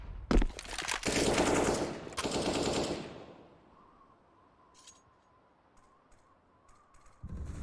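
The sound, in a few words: gunfire exchange in a video game (Rainbow Six Siege match)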